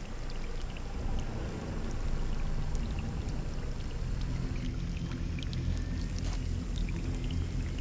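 Running water from a pool in Scanner Sombre, a steady pouring stream that swells slightly after the first couple of seconds, with scattered drips and trickles on top, fairly close.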